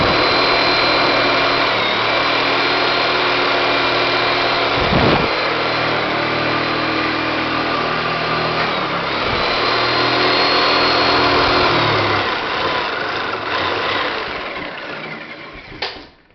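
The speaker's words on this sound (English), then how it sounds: "No problem, I got a saw with a sharp blade." Sawzall reciprocating saw with a sharp blade cutting through a wooden joist near telephone wires, a loud steady buzzing drone with a few brief dips, winding down at the end.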